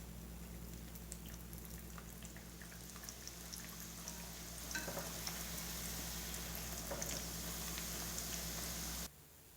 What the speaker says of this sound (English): I've heated up the oil, and I'm getting ready to fry my merveille